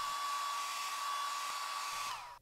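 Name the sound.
hair dryer blowing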